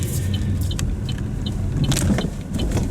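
A 2024 Buick Envista ST rolls over speed bumps with a steady low road rumble, with a few light clunks and rattles from the body as it goes over them.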